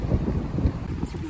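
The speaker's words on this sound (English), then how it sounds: "we arrived at the beach and it's so windy" Steady low rumbling wind buffeting the microphone at a beach in Rockport, Texas, a dense roar with no other distinct sounds.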